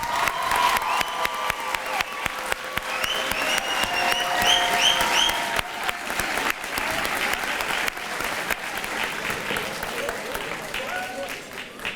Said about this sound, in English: And a big round of applause for grade 8.